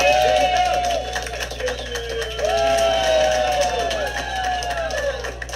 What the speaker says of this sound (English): Let's hear a little clapping on the count.